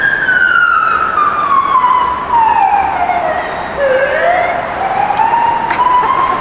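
A Russian police car siren wails through a traffic jam, its loud sweeping tone sliding down and back up over steady road noise from surrounding cars.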